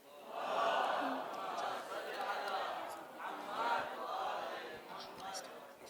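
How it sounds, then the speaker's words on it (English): A large audience at a Shia religious talent show chants salawat in unison, a loud swelling group recitation in repeated waves filling the hall. "So please welcome him with a salawat ala Muhammad wa ali Muhammad."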